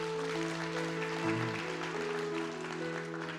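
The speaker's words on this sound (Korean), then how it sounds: "하나님께 영광의 박수 드리도록 하겠습니다" A church congregation at a Sunday worship service applauds in praise to God, a steady spread of clapping beneath sustained keyboard or organ chords.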